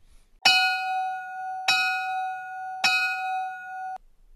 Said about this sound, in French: au son de la cloche